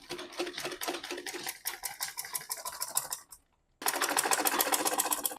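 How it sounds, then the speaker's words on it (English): A sewing machine runs a straight quarter-inch seam joining garment shoulder seams, its rapid needle clatter steady and close, pausing briefly in silence before resuming at a louder, even pace. "we are going to sew a straight line from beginning to the end. I'm going to use a 1/4 inch to sew it down."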